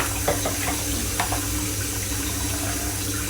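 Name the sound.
leeks rinsed under warm running tap water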